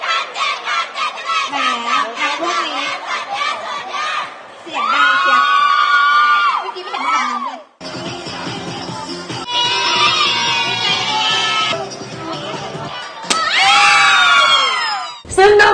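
Students at a Thai university cheer event shout and scream in bursts, with excited high-pitched voices, chanting and whoops rising and falling over a loud, lively crowd.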